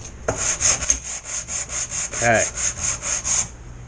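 Sandpaper rubbed back and forth on the wooden keel of a ZippKits Super Sport boat build, giving rhythmic, close, loud scratchy strokes with a brief bump midway and a short spoken word.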